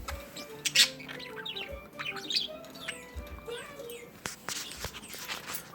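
A pet bird indoors gives a few faint, quick chirps and tweets over a murmur of household background noise, with one sharper burst of chirping near the start.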